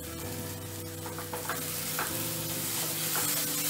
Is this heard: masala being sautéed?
yes